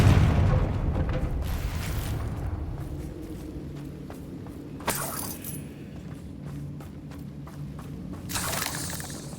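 Fiery Confringo spell blasts in the Hogwarts Legacy video game, a dense rumbling battle mix with booming hits and crackling bursts, one sharp impact mid-way and another surge near the end.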